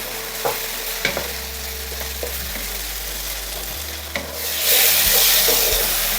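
Tomatoes with salt being stirred and sautéed in a pan for chicken bhuna, with a steady sizzle broken by scraping spoon strokes and a louder hiss near the end, no voices.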